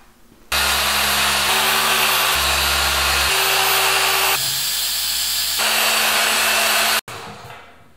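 Machine polisher working on the paint of a Porsche Carrera GT: a loud, continuous motor whine whose pitch steps up and down as speed shifts, then cuts off abruptly near the end.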